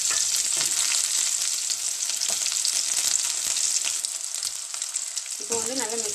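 Shallots, garlic and curry leaves sauté in hot oil with popped mustard seeds and fenugreek for vatha kulambu. A loud, continuous close sizzle crackles throughout, and a brief voice surfaces near the end.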